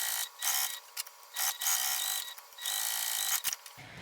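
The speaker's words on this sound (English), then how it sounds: "And now I'm just going to sew." A sewing machine stitches a bag in several short, close bursts separated by brief pauses, with a mechanical, ratcheting whir.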